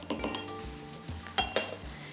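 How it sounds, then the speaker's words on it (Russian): Camel thorn tea is stirred in a teapot for Turkmen tea, with a spoon clinking and scraping against the pot in a few close, quick strokes. "Так, все это перемешиваем."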